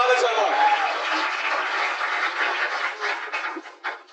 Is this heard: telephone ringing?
no